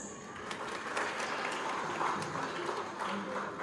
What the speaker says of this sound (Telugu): మీ అందరికీ క్లాప్స్.